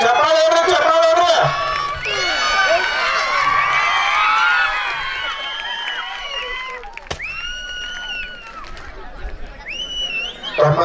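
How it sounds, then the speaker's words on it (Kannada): Lively crowd at a village fair stone-lifting contest as a wrestler raises a 90 kg stone, with cheering, shouting and whoops rising and then fading, mixed with a loud voice calling out over the noise. "ನೋಡ್ರಿ ಚಪ್ಪಾಳೆ ಹೊಡ್ರಿ, ಚಪ್ಪಾಳೆ ಹೊಡ್ರಿ."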